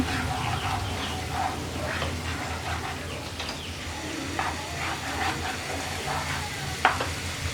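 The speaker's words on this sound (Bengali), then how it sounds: "এক চা চামচ বাজার জিরার গুঁড়ো দিয়ে দেবো এবার একটু নেড়ে দিচ্ছি" Spices with cumin powder sizzle in a frying pan while being stirred for an aubergine fry, a steady close hiss with intermittent spatula scrapes and taps and no talking.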